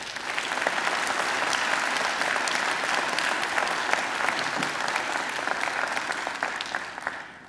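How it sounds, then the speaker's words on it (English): A graduation ceremony audience at Macquarie University gives the graduation unit team a warm round of applause, steady and full for about seven seconds before tapering off at the very end. "They deserve a great round of applause too."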